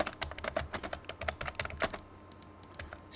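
Quick bursts of typing on a computer keyboard, a rapid run of close, crisp key clicks for about two seconds, then a few scattered taps as it trails off.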